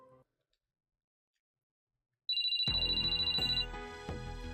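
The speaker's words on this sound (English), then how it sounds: "It was my phone that woke me up, not the alarm." A mobile phone ringtone plays in a dating-sim visual novel, a sudden loud electronic melody with repeating tones and a sharp high trill that keeps ringing after a short stretch of near silence.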